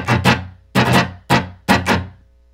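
Rhythm guitar strumming The Who's The Seeker in its sparser pattern: four loud, sharp strum bursts in an uneven rhythm, some doubled, each ringing briefly before the next, played alone with no voices.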